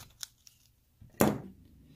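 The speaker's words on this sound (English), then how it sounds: "I am using her good sewing scissors for this." A couple of faint snips, then one crisp, close cut from sewing scissors slicing through material, quiet and brief with no talking.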